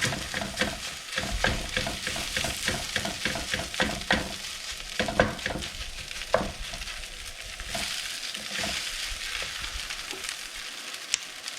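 Rice being stir-fried in a hot pan, clumps broken up with a utensil, producing steady sizzling with a rapid run of scraping, tapping strokes that eases off toward the end, close and clear with no talk.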